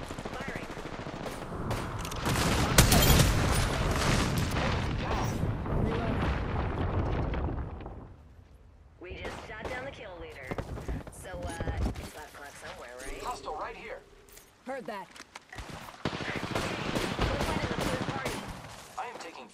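Gunfire in Apex Legends crackles in loud, dense bursts, drops away briefly, then resumes in scattered shots and rattles mixed with game sounds and a voice talking.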